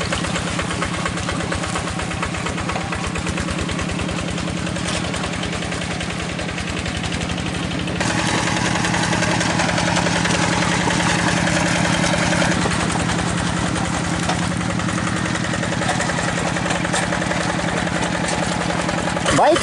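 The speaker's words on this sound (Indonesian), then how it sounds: "lahan persawahan saya yang sementara lagi di traktor" A tractor engine runs steadily while tilling a rice paddy field, a loud continuous mechanical drone with a throbbing low rumble that thickens partway through, and someone talks over it.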